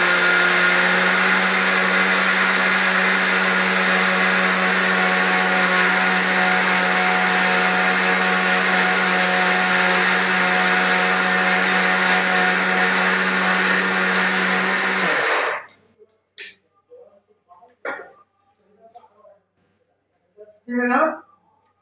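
A kitchen mixer grinder powders sugar with a loud, steady whirring whine for about fifteen seconds, then cuts off, leaving a few faint clicks and handling noises.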